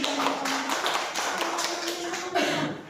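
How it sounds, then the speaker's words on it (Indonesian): Classroom clapping during a lesson in an Indonesian school as pupils applaud two classmates, a steady patter of hands over about three seconds, moderately loud with a faint tonal hum underneath. "Asia dan Evi boleh beri tepuk tangan untuk Asia dan Evi."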